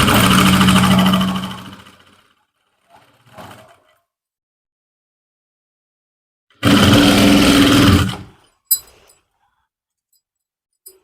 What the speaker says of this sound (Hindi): अभी ये सिलाई लगाएंगे जो वो हम बिल्कुल ही किनारे के ऊपर लगाएंगे।